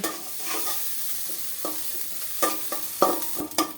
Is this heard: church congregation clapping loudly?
no